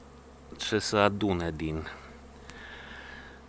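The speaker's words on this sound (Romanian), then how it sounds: "Atâtea albine sunt în aer" Honeybees flying in the air around hives on a mild winter day, a steady low buzzing drone in the background beneath someone speaking briefly, continuing faintly after he stops.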